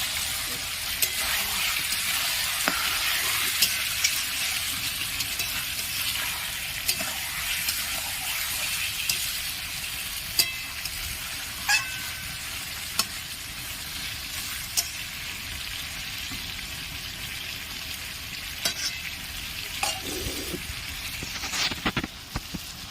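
Mutton curry with potatoes being fried down in a pan, a continuous crackling sizzle with occasional sharp spoon knocks and scrapes against the pan, close and steady throughout.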